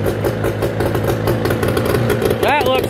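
A two-stroke engine started with a key and full throttle runs with a rapid buzzing idle, close and steady, while someone speaks briefly over it.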